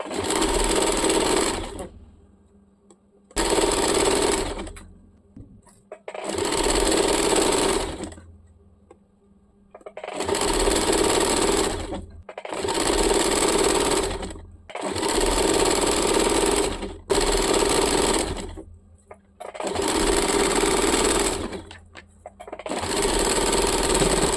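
A sewing machine stitching a churidar, running in about nine loud bursts of rapid whirring stitches, each a few seconds long, separated by short quiet pauses.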